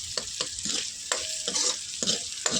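Ingredients fry in a pan while a spoon stirs them, giving close scraping strokes in an uneven rhythm over a continuous soft sizzle.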